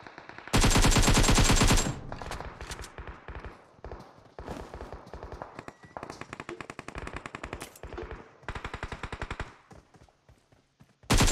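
Automatic gunfire in a PUBG Mobile firefight on the Sanhok map, with rapid bursts of rifle shots, one long loud volley near the start and then shorter, choppy bursts at varying distances.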